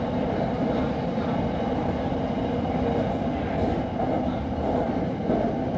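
Red Line commuter train in Bangkok running past Don Mueang airport, heard from inside a carriage as a steady, loud rumble of wheels and motors, continuous throughout with no talk.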